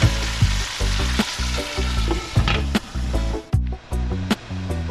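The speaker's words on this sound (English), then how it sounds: "So I'm gonna go ahead and let that brown for a couple minutes on one side" Oxtail pieces browning in a hot pan for Jamaican oxtail with butter beans, a loud continuous sizzle and spatter with occasional sharp pops and a brief dip in the frying noise, heard close up.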